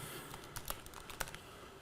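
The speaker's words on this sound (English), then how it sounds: "I'm typing something here." Brief, sparse clicks of typing on a computer keyboard, a handful of light keystrokes at an irregular pace in a quiet room.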